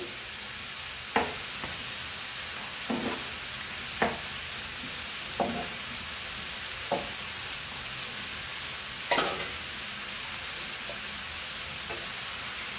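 Steady frying hiss with occasional stirring clanks and scrapes of a utensil in a pan of vegetables and potatoes for Goan fried rice, spaced irregularly, close by.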